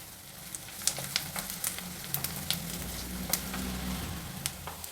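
Onions and green chillies fry in a pan for a wedding-style vangi bath, giving a steady close sizzle with scattered sharp crackles and pops, no voices.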